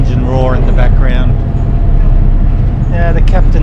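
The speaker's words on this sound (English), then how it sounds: "So you can hear the engine roar in the background." A boat engine rumbles loudly and steadily in the background on a ferry crossing between Bangkok and Malaysia. Someone talks intermittently over the low, constant drone.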